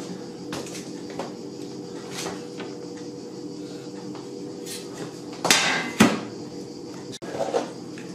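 A metal cover is fitted back into a Beko DVC 6531 fan-assisted oven, with scattered faint metallic clicks and taps, then a couple of sharper clanks near the end over a quiet room hum.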